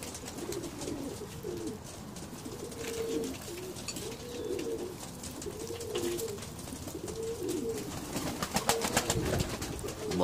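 A Badshah pigeon coos in a steady series of rolling, repeated calls, close and moderately loud, alone over faint background hiss with no talking.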